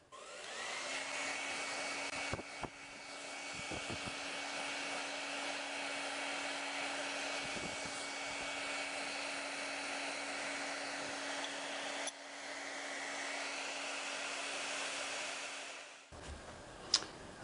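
A hair dryer blows steadily on painted sewing machine parts such as arm covers and the nose cover, a loud constant whirring hum with a few brief clicks before it shuts off near the end.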